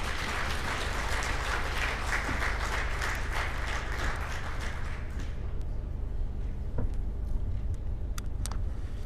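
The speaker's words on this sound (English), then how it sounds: "please acknowledge them with a round of applause" Audience applause at a panel event with African leaders, dense sustained clapping filling the first five seconds before thinning to scattered claps and quieter room noise.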